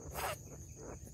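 Crickets chirp at night, faint and distant, with a soft steady insect trill over quiet background hum and a brief brighter rustle near the start.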